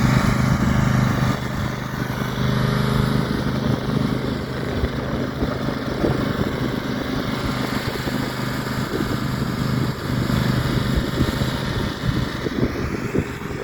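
Riding lawn mower towing a rigged-up walk-behind weed and feed spreader, its engine droning steadily and close throughout with low rumble and rattling from the towed spreader, no voices.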